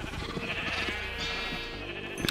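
A sheep in Minecraft bleats with a wavering, drawn-out cry over a steady background hum, with a short final sound at the end.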